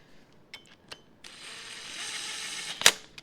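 A ratchet loosens a bolt on the cam plate of a DT-466E diesel engine during a timing case rebuild; a few sharp separate clicks, then a sustained raspy ratcheting run that ends in a loud snap, up close with no talk.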